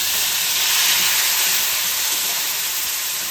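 A paste of ground cumin, green chilli and a little mustard hits hot oil in a pan with fried aubergine, giving a steady, close, loud hiss and sizzle that holds evenly throughout with no talking.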